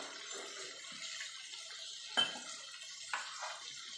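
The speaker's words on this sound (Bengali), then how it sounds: "এবার এই থালাটা দিয়েও জল দিয়ে দেবো।" Water is poured from a plate into a pan of boal fish kalia masala. A faint, steady trickle carries on throughout, broken by a couple of brief clinks of metal cookware.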